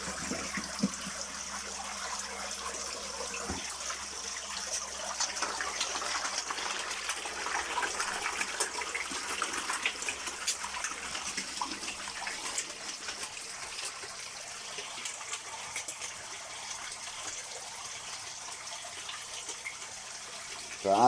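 Water from a shower spray splashes steadily into a koi pond, a continuous gushing wash of fairly loud, unbroken noise for the whole stretch with no voices.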